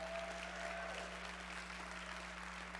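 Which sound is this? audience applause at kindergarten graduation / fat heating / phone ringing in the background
audience applause at kindergarten graduation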